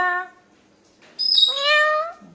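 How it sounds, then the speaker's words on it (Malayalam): A cat meows twice up close, a short plaintive call and then a longer, higher drawn-out meow after a brief pause. "ഓ കള്ളിപ്പൂച്ച കള്ളിപ്പൂച്ച കുട്ടപ്പ കുട്ടപ്പ വാടാ വാടാ"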